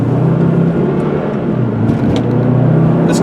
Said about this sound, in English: I'm going to take it for a ride now.